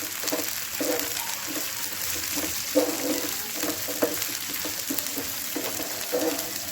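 Green peas fry in a pan for potato bhurji, giving a soft, steady sizzle beneath scattered stirring knocks and scrapes.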